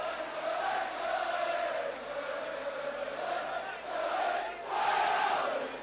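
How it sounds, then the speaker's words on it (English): A home crowd at Headingley roars and chants behind Leeds during a 1990 rugby league match against St Helens, a broad sustained swell of voices rising and falling, with a louder surge near the end. "And the crowd really behind Leeds now."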